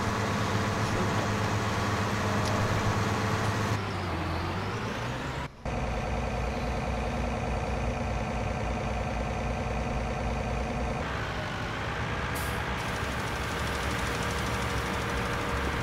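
Tractor engine in Farming Simulator 19, a steady loud diesel drone that shifts pitch as the load changes, with a brief cut-out partway through before the engine keeps running.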